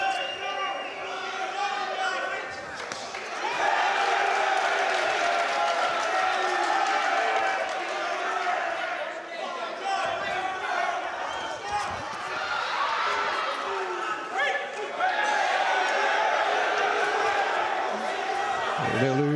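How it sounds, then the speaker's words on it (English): Boxing crowd in a fight between Yaser Al Ghena and Brad Townsend, a steady loud roar of oohs, aahs and howls swelling and dipping across the whole stretch, with commentary talk over it. "The oohs and ahs and howls from the crowd"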